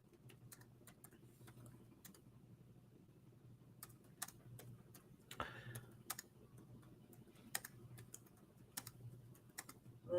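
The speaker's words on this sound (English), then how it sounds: "I'm going to type it in here." Rapid, uneven keystrokes on a computer keyboard clatter along steadily at close range, with brief pauses and a few louder taps, during a live trivia stream.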